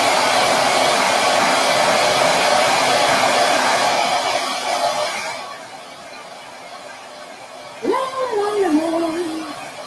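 A hair dryer blows steadily up close to dry wet paint, its whir running loud for several seconds before easing down, then a voice speaks.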